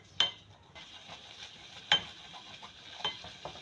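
Flour being roasted in melted butter in a pan, a soft sizzle under sharp spoon scrapes and clinks against the metal, with several distinct stirring strokes heard close up and no talking.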